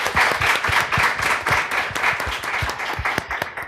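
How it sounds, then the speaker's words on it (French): A studio audience at an evening show claps steadily, with individual sharp claps standing out in a lively, close, continuous round of applause. "Le public, applaudissez."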